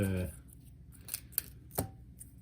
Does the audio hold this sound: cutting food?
yes